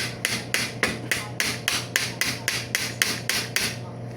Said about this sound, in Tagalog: Katukin muna natin.